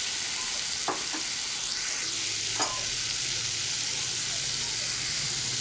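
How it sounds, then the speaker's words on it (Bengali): Hog plums fry in tempered oil as they are stirred, giving a steady soft sizzle with a few sharp scraping and clinking strokes of the utensil against the pan. "আমড়াগুলো দিয়ে একটু নাড়াচাড়া করে একটু হালকাভাবে ভেজে নেব"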